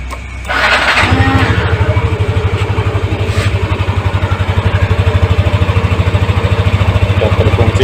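A Yamaha Nmax scooter fires up on its electric starter after a brief crank, then settles into a steady, close, throbbing idle.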